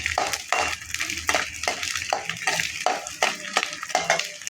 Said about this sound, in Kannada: ಈ ಸಣ್ಣ ಉರಿಯಲ್ಲಿ ಅಂಟನ್ನು ಹುರ್ಕೊಂಡ್ಬಿಡೋಣ